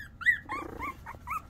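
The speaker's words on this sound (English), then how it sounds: "Who's growling?" A young puppy from a litter gives soft high whiny growls and yips in short bursts, close by and faint, with no talking.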